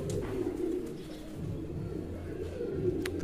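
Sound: pigeons cooing and taking flight

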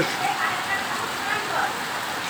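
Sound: rain at night

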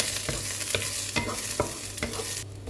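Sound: stir-frying garlic and lemongrass in oil in a pan

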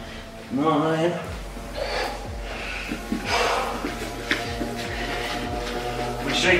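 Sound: heavy breathing during Muay Thai shadow-boxing workout

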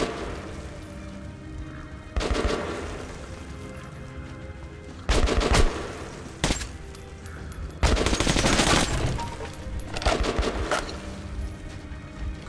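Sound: gunfire from a gun in the video game Metro: Last Light

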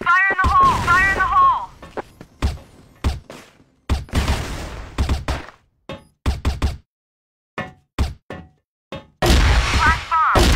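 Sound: flash bomb exploding

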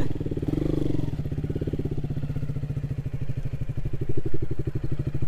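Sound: KTM Duke 200 motorcycle riding

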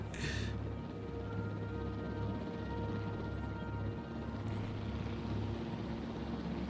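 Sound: helicopter in video game Jurassic World Evolution

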